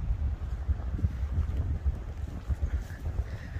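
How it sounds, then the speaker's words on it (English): Wind gusting through an open valley beside a ground-mounted solar array, a loud low rumble buffeting the microphone in uneven pulses, with no voices. "We get quite a bit of wind through here."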